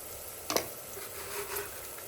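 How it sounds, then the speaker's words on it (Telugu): Onions fry in a pan with turmeric and salt for a sword bean mutton curry, giving a low, steady sizzle with a brief stirring scrape near the start and no talk. "ఈ ఉల్లిపాయలు వేగుతూ ఉన్నప్పుడు ఇందులో కొంచెం పసుపు, అలాగే ఉప్పు కూడా వేసేసుకుంటానండి నేను."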